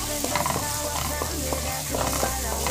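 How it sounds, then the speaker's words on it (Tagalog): Onions sautéing in a pan, a steady close sizzle with quick stirring scrapes and utensil taps, moderately loud for nearly three seconds, while a person speaks faintly in the background. "Habang nagigisa ako ng sibuyas"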